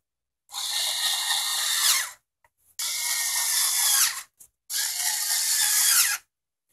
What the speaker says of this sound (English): You just have to put in those eight screws.